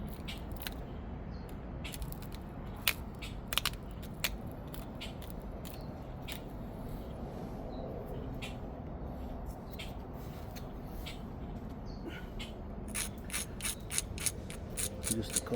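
Antler tip pressure flaking obsidian, a run of sharp, scattered clicks and tiny snapping ticks, close and fairly quiet over a steady background hiss, with clusters of flakes popping off near the start and the end.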